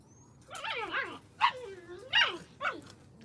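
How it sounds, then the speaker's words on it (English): Puppies playing together let out a quick run of high yips, whines and small barks, close and fairly quiet, in short uneven bursts. "Got puppies over here playing with each other."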